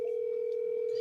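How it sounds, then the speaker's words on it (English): Telephone dial tone heard while placing a call: a steady, unbroken pure tone held at constant loudness throughout, alone without talking. "I'm gonna call Big Mike myself"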